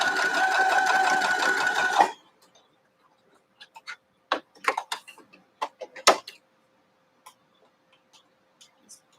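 Sewing machine stitching quilt pieces with a 1/4 inch presser foot, a rapid buzzing whir for about two seconds, followed by scattered small clicks and taps as the fabric is handled.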